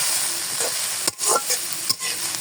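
Bitter gourd and shrimp stirred in a frying pan, a steady close sizzle broken by a few sharp scrapes of the spoon against the pan, with no voices.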